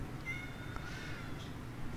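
A cat meows once, a thin, faint call over a steady low background hum.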